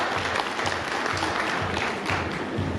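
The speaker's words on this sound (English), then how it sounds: "A round of applause for Prudential." Audience applause at a women in agribusiness conference in the Copperbelt honors Prudential, with steady, moderately loud clapping from a crowd that carries on evenly without pause.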